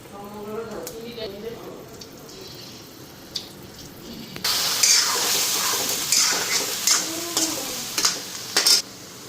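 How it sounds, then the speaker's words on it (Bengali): Egg dropped into hot oil in a home kitchen pan, a sharp burst of sizzling that starts partway through and keeps crackling loudly, with a voice talking before and over it. "তো এদিকে আমার তেল গরম হয়ে গেছে, ডিমটা দিয়ে আনি।"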